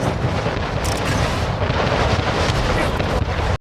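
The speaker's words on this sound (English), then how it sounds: "the thundering crack of cannons" Dense, continuous booming and rumbling of heavy cannon fire in a naval battle in the video game Anno 1800, loud and layered with crackling blasts and no clear pauses.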